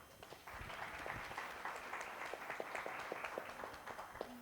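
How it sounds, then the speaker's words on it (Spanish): Audience at a panel conference on crises and change in Latin America applauds a panelist, fairly quiet and somewhat distant clapping that builds after a half-second and continues evenly with distinct individual claps. "Lo recibimos con un aplauso"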